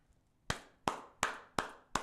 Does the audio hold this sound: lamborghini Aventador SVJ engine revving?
no